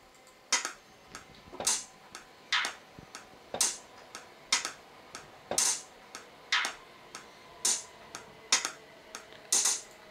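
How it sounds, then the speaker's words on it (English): Metronome in MPC Beats ticking steadily at about one click per second, with alternating accented and softer clicks, fairly quiet and alone. "Let me stop this metronome."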